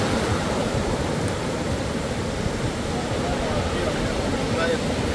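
Ocean waves wash up on the beach at Costa del Sol, a steady, close rushing roar of surf that carries on evenly with no clear breaks.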